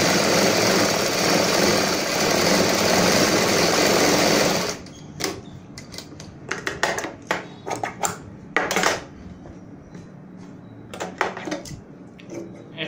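A sewing machine stitches blouse fabric along the buckram edge, a steady dense whir for the first few seconds, then breaking into short stop-start bursts with quiet gaps between them.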